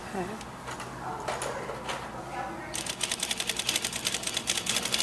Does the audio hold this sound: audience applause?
no